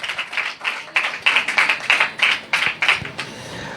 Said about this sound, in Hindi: आए उस जिंदा खुदा के लिए जोरदार तालियां बजाएं।